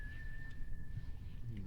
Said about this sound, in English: whistling sounded a little bit like Ghostbusters